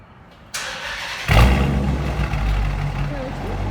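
A Dodge Challenger R/T's 5.7L HEMI V8 with stock mufflers barks to life and settles into a loud, deep rumble close by, with a rising rev toward the end.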